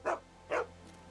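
A dog in The Walking Dead video game gives two short, sharp barks about half a second apart, fairly close and clear over a quiet background.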